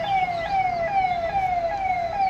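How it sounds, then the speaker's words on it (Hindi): An ambulance siren wailing on a residential street, a loud, continuous rising and falling tone passing close by over light traffic noise. "यहाँ पे हमेशा एम्बुलेंस वगैरह आती रहती हैं"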